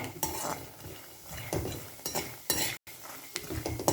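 Poha is roasted in a pan while a spatula stirs and scrapes it, producing irregular close clinks and dry scraping strokes with short gaps between them.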